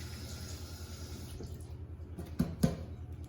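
Fingers are rinsed under a running kitchen tap: a quiet, continuous trickle of water with two brief splashy bursts near the end.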